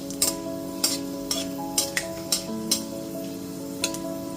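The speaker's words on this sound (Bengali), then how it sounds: "গ্যাসের ফ্লেমটা লোতে রেখে হালকা করে ভেজে নেব।" Dried red chili and panch phoron fry gently in mustard oil over a low flame, a soft steady sizzle broken by several sharp clinks and scrapes of a spoon stirring in the pan.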